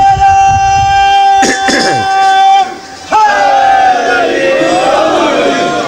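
Crowd at a Shia majlis chanting slogans in loud, tonal unison bursts that rise and fall, with a short lull before the chant resumes strongly.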